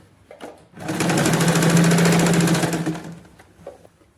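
Sewing machine running a seam on the collar fabric of an A-line dress, a few soft clicks, then a close, loud, rapid mechanical chatter of stitching held for about two seconds before stopping, with light handling noise after.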